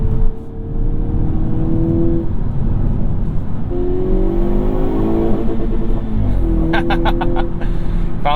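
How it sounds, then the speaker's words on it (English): A 2022 Hyundai Kona N engine revs hard and bounces off its rev limiter, with loud repeated surges and rising harmonic sweeps that stay close and continuous under the cabin noise. "Bouncing off that rev limiter"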